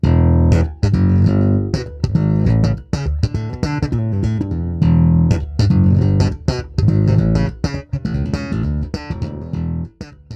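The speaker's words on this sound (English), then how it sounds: "The Lightwave also gets a great slap tone." Punchy slapped notes on a Lightwave Saber SL bass guitar pop and thump in a busy, syncopated rhythm, loud and up close with sharp percussive attacks.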